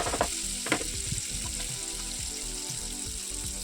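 Shredded cabbage frying in hot oil in a pan, a dense steady sizzle and crackle heard close up with light stirring.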